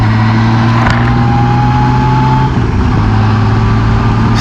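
A car cruising in highway gear at about 55 mph on smooth, freshly paved Sugar Grove Road between Sugar Grove and Brandywine, with a steady low engine drone and road roar that stay even and close throughout.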